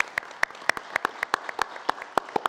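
Sparse round of applause at a county board of commissioners meeting, a handful of distinct claps spaced irregularly, close and fairly faint.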